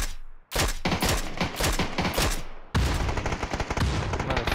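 Loud, dense bursts of automatic gunfire in PUBG, rapid overlapping shots filling two sustained volleys with a brief gap between them.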